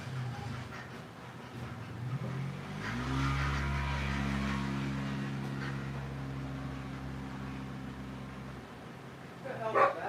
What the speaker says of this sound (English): Somebody ride a motorcycle up my fucking yard?